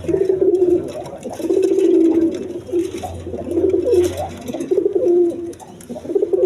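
Loft pigeons coo close by in repeated rolling, throaty phrases, several birds overlapping in a steady rhythm, with a brief low hum beneath.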